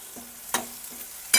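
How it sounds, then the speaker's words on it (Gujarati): Pieces of ridge gourd are stirred in hot oil in a pan, giving a few short scraping stirs and a soft sizzle between them, close and brief. "બધાય ગલકા આ રીતના નાખીને આપણે તેલમાં જો આ રીતના મિક્સ કરી વાળવાના"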